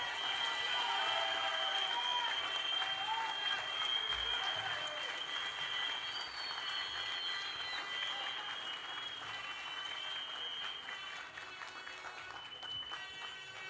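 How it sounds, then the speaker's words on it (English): Crowd applauding at the Antigua Labour Party's 2026 manifesto launch, a sustained distant wash of clapping with scattered cheers and voices, slowly fading toward the end. "Another round of applause for the leader of the Antigua Labour Party and Prime Minister of Antigua and Barbuda"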